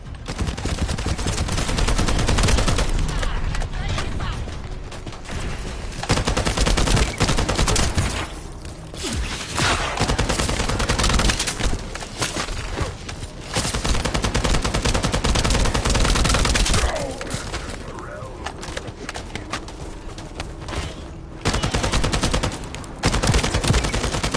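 Sustained automatic gunfire in the shooter game The First Descendant, dense rapid bursts roaring almost continuously for about twenty seconds with only brief lulls between volleys.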